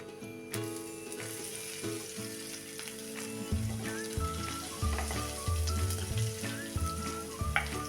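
Half a teaspoon of asafoetida and six or seven crushed garlic cloves sizzle steadily in hot oil in a pan while cooking a raw jackfruit vegetable dish, with occasional stirring clinks and a stronger burst of frying partway through.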